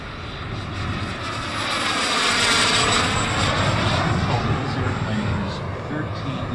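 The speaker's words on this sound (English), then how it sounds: "just taking off with this Bobcat. This is powered by a jet cat" A turbine-powered model Bobcat jet with a JetCat engine takes off, its loud whining roar rising and swelling as it passes close, then easing slightly as it climbs away, with no talk over it.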